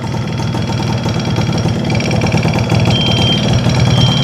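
A 1995 Yamaha F1Z R two-stroke motorcycle engine, freshly fitted with new piston rings and a new battery, running at a steady idle, loud and close with a busy buzzing throb that firms up partway through.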